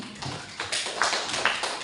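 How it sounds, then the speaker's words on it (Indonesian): A handful of people clap for colleagues at a school gathering, a light uneven patter of hands that swells and thins over a couple of seconds, fairly close with no talk over it. "Tepuk tangan untuk teman-teman."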